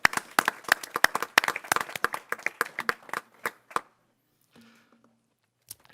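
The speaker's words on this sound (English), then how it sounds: "Can we please give them another round of applause?" Audience applause for school district staff at a board retreat and workshop: a smallish group claps in sharp, distinct hand claps for about four seconds, tapering off into near silence with a few faint stray sounds.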